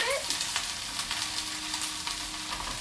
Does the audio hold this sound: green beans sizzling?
yes